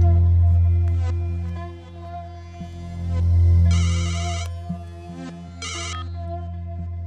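A phone ringtone plays loudly and continuously, a repeating electronic melody with bright chiming bursts, no voices.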